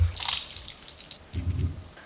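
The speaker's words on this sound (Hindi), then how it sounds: "इस तरीके से हाथों में लेते हुए जितना हो सके उतना पानी को निकाल दे।" Water drips and trickles from soaked soybean chunks squeezed by hand, in two short bursts of wet dribbling with a quiet pause between, close and soft.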